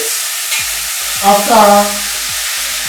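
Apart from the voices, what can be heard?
frying omelette ingredients in a pan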